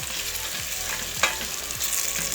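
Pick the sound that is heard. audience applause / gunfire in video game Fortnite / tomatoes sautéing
tomatoes sautéing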